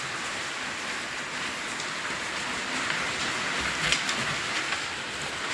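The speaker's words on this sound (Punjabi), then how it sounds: "ਬਾਰੀ ਖੋਲ ਕੇ ਫਿਰ ਬਾਛੜ ਅੰਦਰ ਆਏਗੀ" Rain pours down in a loud, constant rush, spattering in through an open window close by with a dense, steady hiss and no speech.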